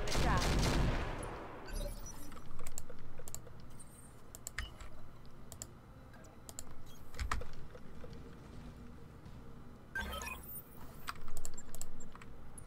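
Turret fire in the video game Roguepoint, heard as bursts of rapid clicking shots and louder booms scattered over several seconds, with players talking over the game audio.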